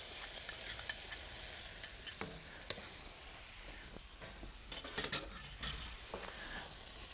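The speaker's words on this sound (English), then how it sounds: "So if you can give that a good stir." A spoon stirs lentil and tofu broth with tomato puree in a pot, making faint scraping and knocking sounds over a low, steady hiss.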